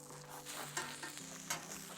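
Courgette and other vegetables such as hispi cabbage and onions sizzle steadily on a Vulcanus grill, a close, continuous crackle with occasional sharper pops and no one talking.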